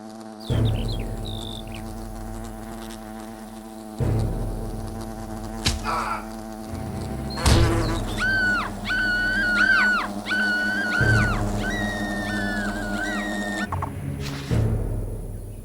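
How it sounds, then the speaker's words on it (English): Wasps buzz in Fable Anniversary, a high whining drone with wavering pitch that rises and falls over a steady low game ambience and music, loudest through the middle of the stretch and fading near the end. "Wasps are attacking the picnic area!"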